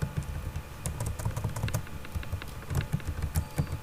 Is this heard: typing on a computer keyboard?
yes